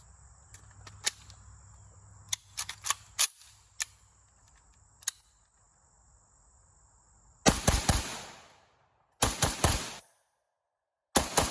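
A Palmetto State Armory AK-103 rifle firing outdoors: several sharp, loud shots in quick bursts with ringing tails, separated by pauses, after softer clicks and handling knocks earlier on.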